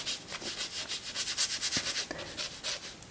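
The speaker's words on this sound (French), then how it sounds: "Alors je frotte, ça va se déposer," Acrylic paint being rubbed onto a painting surface makes a steady run of soft, close scratchy strokes in an even back-and-forth rhythm, with no voices.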